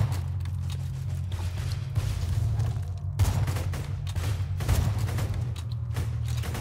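Gunfire in the Borderlands 2 video game comes as loud, dense bursts of rapid shots that repeat almost without pause.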